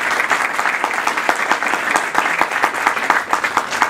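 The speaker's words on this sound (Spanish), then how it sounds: "Por favor, un aplauso." An audience at a committee meeting breaks into steady applause, many hands clapping in a close, lively burst that keeps a fairly even rhythm from start to finish.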